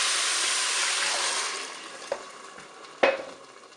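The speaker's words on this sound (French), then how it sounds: "Je vais ajouter mon verre de vin blanc," White wine poured onto sizzling rice in a Cookeo multicooker pot: a steady broadband hiss of frying and liquid, with a couple of sharp splashy bursts near the end, close and moderately loud, no talk.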